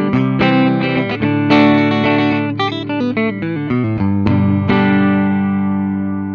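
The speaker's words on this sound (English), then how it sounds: "But I love that neck pickup." A 1978 Gibson The SG electric guitar played through its neck pickup with distortion, a run of sustained chords and single notes ringing out loud and alone, ending on a long decaying chord.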